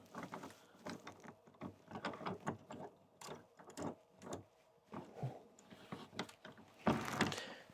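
Metal parts of a micro adjust base plate being threaded onto a bow vise, a run of small clicking, ratcheting contacts close by, uneven in rhythm and fairly quiet, with no talking.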